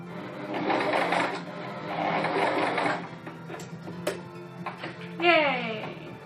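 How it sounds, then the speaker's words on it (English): A sewing machine stitching in fast mechanical bursts, close by, with pauses between runs and a brief high-pitched voice near the end. "Especially when you haven't used your sewing machine in forever."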